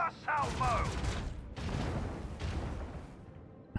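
Macro cannon fire in the space-combat video game Warhammer 40000: Rogue Trader, heavy booming blasts and rumbling impacts in a few bursts, mixed with game sounds and a voice talking over it.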